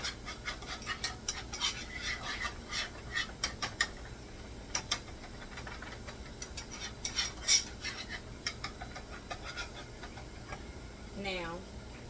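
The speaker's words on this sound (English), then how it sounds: "You're gonna start whisking it around to make a nice coated" A whisk scrapes and clicks against a pot while flour and butter roux is stirred, a quick irregular run of light metallic taps and rattles, close and moderately loud with brief pauses.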